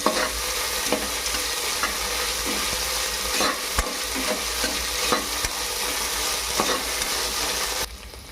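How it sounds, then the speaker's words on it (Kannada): Ginger garlic paste fries in a pan for vegetable pulao, a dense, steady sizzle with repeated scraping stir strokes up close, then it drops quieter at the end. "ಶುಂಠಿ ಬೆಳ್ಳುಳ್ಳಿ ಪೇಸ್ಟ್ ಹಾಕೊಳತ್ತೀನಿ ರೀ ಸ್ವಲ್ಪ ಫ್ರೈ ಮಾಡಂಬ್ರಿ"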